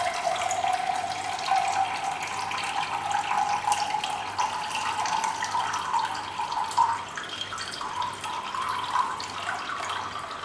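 Boiled and cooled neem water is strained into a glass, giving a steady, continuous stream of pouring and splashing liquid heard up close with no talking.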